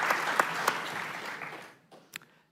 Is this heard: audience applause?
yes